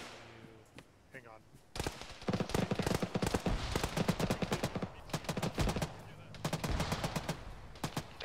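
Rapid gunfire aimed at a BTR armored vehicle in a military video game, with dense bursts of shots rattling steadily after a short pause, loud and close, under brief radio chatter.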